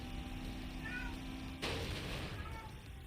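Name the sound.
pet cat meowing in the background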